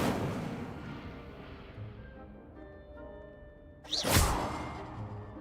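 A fire spell cast in Hogwarts Legacy starts with a fading rush of sound, then a sudden loud whooshing burst that flares up and trails off.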